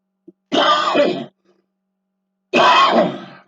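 A man gives two harsh, throaty coughs close to the microphone, each lasting about a second and separated by a pause of near silence.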